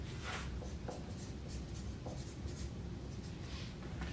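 A pen scratches across paper in short strokes, soft and close, over a steady low room hum as goals are written down.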